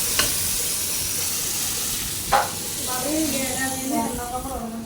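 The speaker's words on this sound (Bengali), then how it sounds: "তো বাগার দিয়ে ফেললাম ডালটা" Garlic and onion sizzle in hot oil as a tempering (bagar) for dal, a steady hiss with a couple of sharp spits, while someone talks over it.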